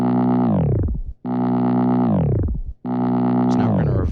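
Vinyl flick effect on a Boss RC-505 MK2 loop station: three loud sustained tones, each sweeping downward in pitch like a record slowing to a stop, the last one breaking into scratchy noise.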